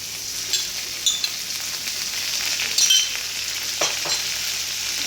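Ginger garlic paste sautéing in a hot pan for a chicken dish, giving a continuous close sizzle with a few soft scrapes of stirring, no talk.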